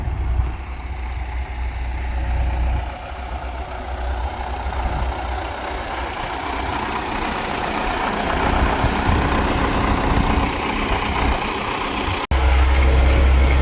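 An MTZ-82 tractor engine runs steadily and loudly at about 1700–1800 rpm while disking soybeans, a continuous close low rumble with no talk and a brief break near the end.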